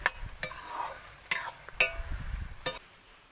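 Oil poured into a hot pan for frying garlic and drumstick leaves crackles softly under a series of sharp utensil clinks and scraping stirs, no voices.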